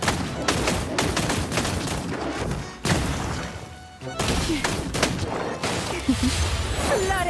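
Rapid video-game gunfire fills a dense, busy fight in Silver Palace, with sustained bursts broken by a brief lull, plus crashes and thuds around the shots.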